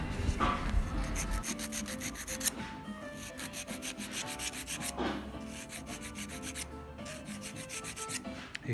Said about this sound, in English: just take a bit of time to clean them up with a file so that you've got a nice fitting surface